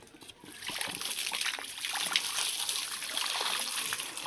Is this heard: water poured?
yes